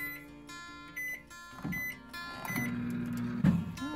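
A microwave oven heats a rice pouch with a steady close hum, a faint tonal whine and brief beep-like tones, growing fuller partway through.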